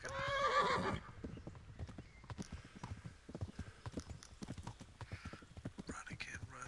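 A horse in the video game Kingdom Come Deliverance gives a loud neigh at the start, then gallops on with a steady, rapid clip-clop of hooves close up while someone talks over the hoofbeats.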